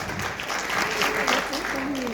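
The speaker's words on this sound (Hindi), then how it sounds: "एक बहुत बड़ा हाथ ताली हो जाए उनके लिए" A crowd at a marketing event applauds a newly named crown ambassador, sustained dense clapping throughout while someone speaks over it.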